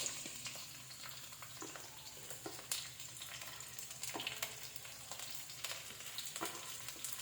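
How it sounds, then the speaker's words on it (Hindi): Sliced onion and capsicum stir-fry for street-style veg chowmein on a high flame, a continuous faint sizzle broken by intermittent crackles and light tosses, with no talking. "इसे हाई फ्लेम पे हम इसे फ्राई करेंगे।"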